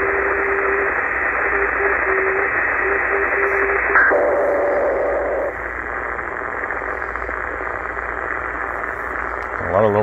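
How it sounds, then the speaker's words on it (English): Longwave NDB beacon received on a Tecsun PL-990X portable in single sideband mode with its internal ferrite antenna: a steady keyed tone over constant hiss that shifts pitch midway, then drops to bare static. "I was able to go and get that signal that was kind of difficult to receive."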